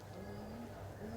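Pigeons coo softly and continuously at a pigeon market in Khulna, a low steady murmur of many birds.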